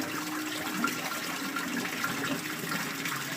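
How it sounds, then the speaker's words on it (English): Water runs steadily through a one-inch siphon pipe in a bioshelter, a constant rushing and gurgling flow that stays at an even level, fairly close and with no talk over it. "the full siphon will take on and it'll completely fill up that 1-inch"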